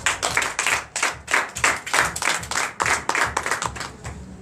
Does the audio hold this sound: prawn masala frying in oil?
no